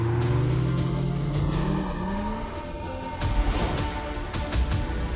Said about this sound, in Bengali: চলে এসেছে গাড়িগুলো